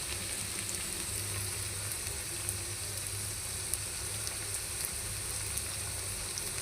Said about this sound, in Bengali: এটা কিন্তু মিডিয়াম টু লো হিটে ভাজতে হবে